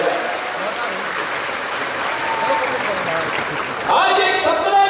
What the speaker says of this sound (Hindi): तालियों की गड़गड़ाहट से उनका भी धन्यवाद किया जाए